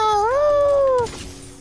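A person imitates a cat's howling meow in a single rising, drawn-out wail, close and loud, lasting about a second before stopping abruptly.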